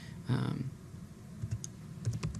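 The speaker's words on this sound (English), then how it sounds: "I click on the spreadsheet and I would just type in" A computer keyboard is typed on while entering text into a spreadsheet: a short scatter of light keystroke clicks, fairly faint and close, with a soft low murmur underneath.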